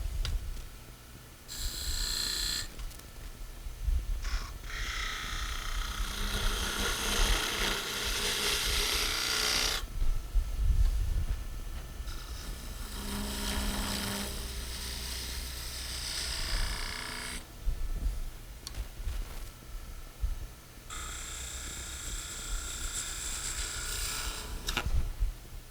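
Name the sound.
skew chisel rolling beads on a wood lathe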